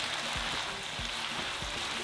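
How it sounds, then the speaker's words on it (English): Nopales and onions frying in a pan, a close, steady sizzle and crackle with a few soft clunks from stirring. "Just going to cook our onions and nopales for about 2 minutes."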